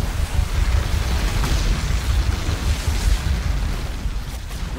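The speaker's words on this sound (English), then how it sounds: "We've destroyed an enemy structure." An enemy structure being destroyed in the video game Halo Wars 2 gives a loud, sustained rumbling explosion with a deep, rolling low end that lingers for several seconds.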